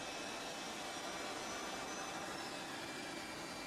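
An airliner's number two jet engine spools up during start, a steady broad roar and whine heard at a distance, constant and fairly faint, with no talk.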